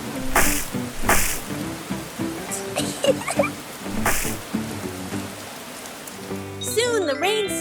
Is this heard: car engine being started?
no